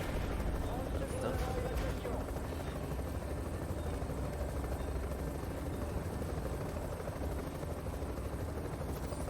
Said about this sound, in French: je suis dans l'hélicoptère